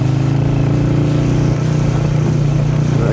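A motorbike ridden along a rough village road, its engine droning steadily and close throughout, with a constant low rumble and no voices.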